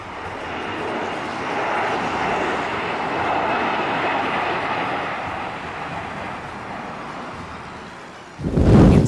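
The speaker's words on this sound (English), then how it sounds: "A340 climbs steeply after takeoff, its four engines thundering over the nearby town." A four-engine Airbus A340 jet climbing steeply after takeoff over a town, its engines giving a loud, broad, steady roar that swells and fades slightly, ending in a sudden louder burst.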